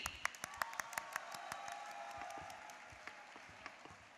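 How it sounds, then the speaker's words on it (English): Audience at a graduation ceremony applauding as a speaker is welcomed on stage, with sharp individual claps standing out over a quiet wash of clapping that fades somewhat toward the end. "Ladies and gentlemen, with a big round of applause, Ali Sadiq."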